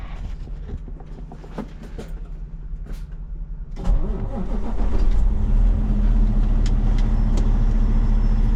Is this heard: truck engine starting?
yes